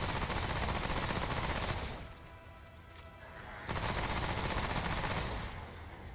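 Rapid automatic gunfire in the action game Remnant: From The Ashes during a boss fight, dense bursts that cut out briefly midway and then resume, loud and sustained.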